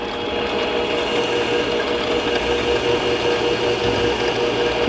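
Coarse emery cloth pressed against a spinning lathe headstock, a continuous abrasive rasp over the motor's steady hum, close and fairly loud throughout.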